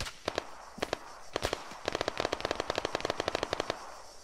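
Rapid automatic gunfire from the military shooter game Arma 3, a few isolated shots followed by a dense run of sharp bursts, loud and close with no talk over it.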